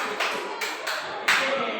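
A school class claps a short 'tepuk 5' pattern in a mathematics lesson, a few sharp, closely spaced claps sounding together in a small room.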